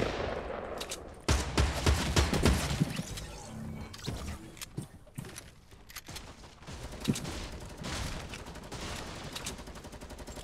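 Repeated gunfire in the battle royale video game Fortnite: sharp single shots and rapid bursts come near and far over ten seconds, some loud, others distant, with no talking.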